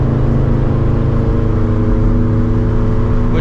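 A built-motor, 400-horsepower turbocharged Scion FR-S running 14 psi of boost pulls hard, its engine a loud, close, steady droning roar with a thick low-end growl and no talking over it.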